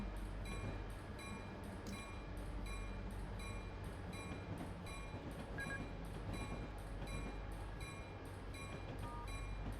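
An SD40-2 diesel locomotive runs in a train simulator game, with a steady low engine rumble, rolling wheel noise and a regular high-pitched ticking pattern throughout, loud and continuous.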